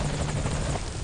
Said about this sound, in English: Alright, there it is. That's our helicopter.